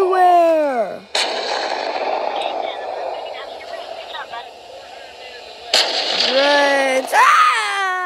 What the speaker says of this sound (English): Keep shooting! Look, they're everywhere!